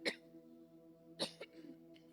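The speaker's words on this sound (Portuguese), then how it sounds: "Desculpem pela minha tosse" Two short, muffled coughs from a woman preaching in a church, spaced about a second apart and fairly faint, over a steady low room hum.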